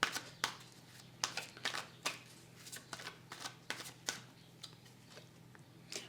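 Tarot cards are shuffled and drawn on a table: a quiet series of sharp, close flicks and slaps, about a dozen irregular snaps over a faint steady hum.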